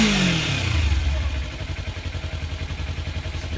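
A stock 2015 Kawasaki Ninja 300 ABS with factory exhaust revs hard up front, then drops back to a steady, pulsing idle, loud and close.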